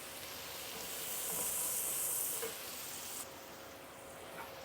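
Rendered guanciale fat sizzles steadily in a pot while split pea soup is being made, a continuous bright hiss that swells in the middle and then eases back, with no talking.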